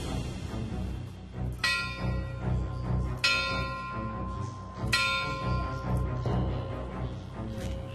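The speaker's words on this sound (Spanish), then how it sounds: "Ahí hay una campana que es tocada cuando alguien es enterrado" A church bell at a crossroads where burials take place tolls three times at steady intervals, each strike ringing out and fading over a low, constant rumble of ambient background noise.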